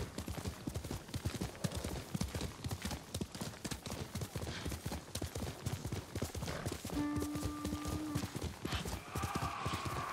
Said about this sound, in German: Pferd steht schon bereit.